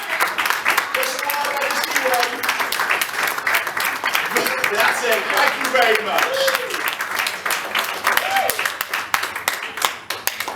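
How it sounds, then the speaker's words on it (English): Audience applause at a live comedy show in Birmingham as a volunteer is brought on stage, dense steady clapping throughout with someone speaking over it. "Give them a big round of applause."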